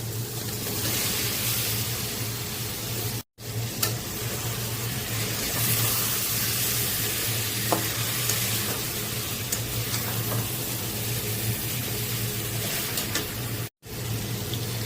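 Bele fish frying in spiced oil with fried turmeric and tomato, a steady close sizzle with stirring scrapes running throughout, broken by two brief cutoffs.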